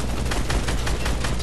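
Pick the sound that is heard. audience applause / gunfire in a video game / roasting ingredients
gunfire in a video game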